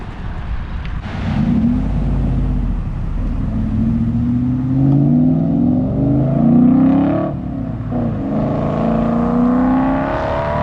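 A car accelerates and speeds past on a residential road near a bend by a soccer field, its engine rising loudly and revving as it passes close by, then trailing off.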